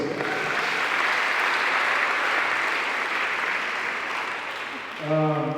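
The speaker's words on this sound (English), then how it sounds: "If you can hear me clearly, can you clap for yourselves?" An audience at a Nollywood gathering claps together in a dense, steady round that fades slightly near the end, where a brief musical tone cuts in.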